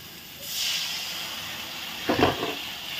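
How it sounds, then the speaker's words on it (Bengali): Water poured into hot, oil-releasing fried spice paste for a bata fish curry, starting with a soft hiss and flaring into a brief loud sizzling burst near the end. "এখন আমি দিয়ে দেবো মশলার বাটিটা ধুয়ে জল দিয়ে দেবো অল্প।"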